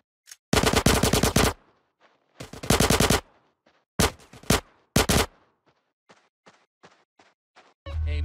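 Bursts of automatic gunfire in the video game GTA San Andreas: several loud, rapid volleys separated by short gaps, followed by scattered single shots and a final heavy blast.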